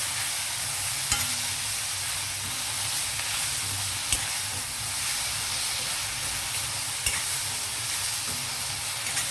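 Tender tamarind leaves are stirred and sautéed in oil over a constant close sizzle and hiss, with occasional sharp knocks of a spoon against the pan throughout; no one speaks.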